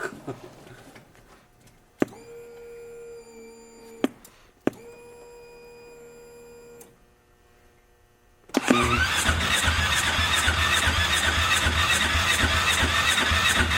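A rock bouncer's engine cranks in two long starter whirs with a steady tone, then catches and roars to life into a loud rough idle after a short silence.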